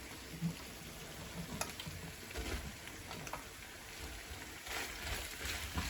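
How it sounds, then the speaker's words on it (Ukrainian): Sliced button mushrooms fry in a pan with oil, giving a quiet, continuous sizzle and crackle, broken by occasional scraping stir sounds, close up with no talking. "перемішуємо і даємо всьому цьому гарненько обсмажитись"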